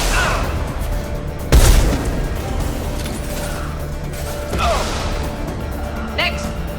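A fiery incineration tech power blast goes off in Mass Effect 2, a sharp loud burst near the start followed by crackling, with two weaker bursts later over steady game ambience and occasional voices.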